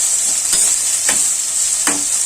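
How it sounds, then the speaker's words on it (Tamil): Onions and garlic sauté in hot oil in a home kitchen, a steady sizzle with a few soft stirring scrapes spaced through it, close and fairly loud, with no talking. "வெங்காயம் வதக்கிக்கலாம். நல்லா ப்ரௌன் ஆகட்டும். இது கூடவே நம்ம உரிச்ச பூண்டையும் சேர்த்துக்கலாம்."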